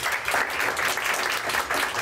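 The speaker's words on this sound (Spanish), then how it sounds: "un aplauso por su participación" Steady applause from a seminar audience for the speakers, a continuous wash of many hands clapping at even loudness throughout, with no voices on top.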